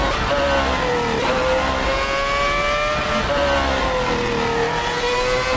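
F1 car engine revving hard at Suzuka in a racing video game, a loud continuous high-pitched whine rising and falling through the gears, close up and steady throughout.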